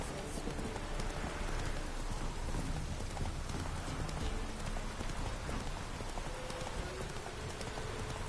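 In The Witcher 3 game, the horse Roach's hooves clip-clop steadily through pouring rain, a continuous dense wash of rainfall with rhythmic hoofbeats underneath.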